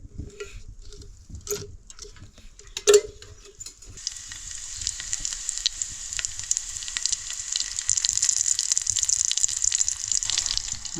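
Mackerel frying in a pan over a wood-fired clay stove, a steady loud sizzle that swells after a few seconds and keeps crackling, with a few sharp clinks of utensils early on.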